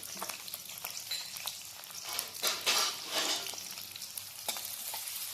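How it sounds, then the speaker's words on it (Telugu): Onions and green chillies frying in a pan, a bright, steady sizzle with crackling bursts and occasional stirring scrapes, close and continuous without any talking. "ఆనియన్స్ అవన్నీ మంచిగా ఫ్రై చేసుకొని చూపిస్తా"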